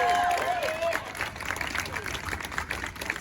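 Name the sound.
audience applause for speakers at faculty rally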